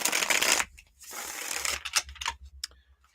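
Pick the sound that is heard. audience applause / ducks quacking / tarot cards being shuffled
tarot cards being shuffled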